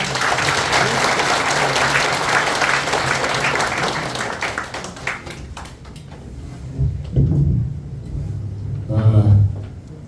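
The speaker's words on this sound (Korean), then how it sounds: "박수로 청해 듣겠습니다." A seminar audience at a Korean War anniversary security forum applauds to welcome the keynote speaker, a full, loud ovation that fades out after about six seconds, leaving quieter room sounds and a few thumps.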